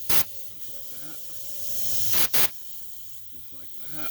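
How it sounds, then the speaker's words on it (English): Compressed air blows lacquer thinner out of a part in two short, sharp hissing bursts, one near the start and a doubled one midway, under faint talk and background hum. "And then I'm going to give it a shot of air. Blow out that"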